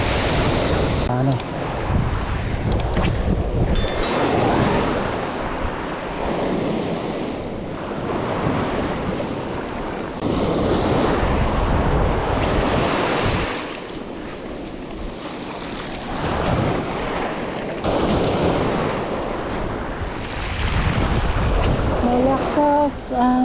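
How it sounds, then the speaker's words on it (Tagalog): Strong ocean waves roll in and break at the rocky shore of Malagundi Point in Lobo, Batangas, a loud, continuous rushing surf that swells and ebbs, with heavy wind buffeting the microphone and brief bits of distant voices. "Malakas ang alon."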